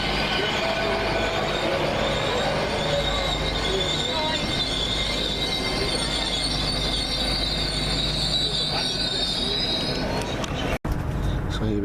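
A diesel train pulls out of Reston station in Scotland with a loud, steady engine roar and squealing wheels. The sound holds close and strong throughout, then cuts off abruptly near the end.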